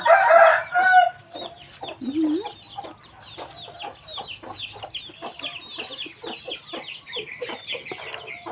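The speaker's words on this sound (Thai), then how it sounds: "จับไก่" Chickens clucking and a rooster crowing on a rural Thai farm, with one loud squawk at the start followed by a dense run of overlapping clucks and chatter at moderate distance.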